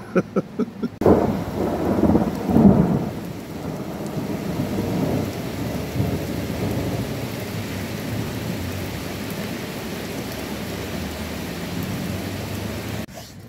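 Thunderstorm during a tornado warning: rolling thunder rumbles up close at the start, then steady heavy rain drums on a van roof throughout, loud and continuous with no voices.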